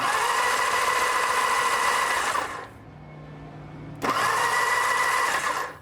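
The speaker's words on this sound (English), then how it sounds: "Ignition is on, and I'm going to just spin the motor." A Norton motorcycle engine is spun over with the ignition on, a loud steady whirring drone that pauses for over a second and then resumes at the same pitch before cutting off.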